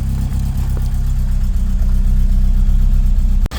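A Ford Escort's Pinto engine idles steadily while warming up to temperature, a loud, close, even low rumble with a regular pulse and a brief dip near the end.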